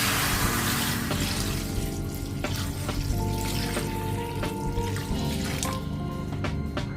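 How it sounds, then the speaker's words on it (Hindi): Water pouring and splashing into a pan holding three packs of Hakka noodles, a sustained trickling stream with sharp drips and clinks, fairly loud and close, with no speech. "2 से 3 गिलास पानी डाल दूँगी"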